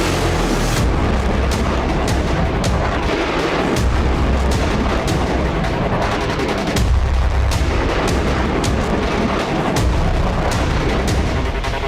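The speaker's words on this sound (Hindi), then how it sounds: "ड्रैगन ने एंटी रेडार मिसाइल का धमाका किया" Chinese anti-radar missile blast, a rapid series of heavy booms and sharp cracks, loud and dense, repeating across the whole stretch like sustained artillery fire.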